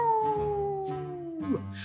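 A single sustained wolf howl used as a story sound effect, a long tone falling slowly in pitch over more than a second and ending in a short yelp, close and fairly loud, likely voiced by a person imitating a wolf.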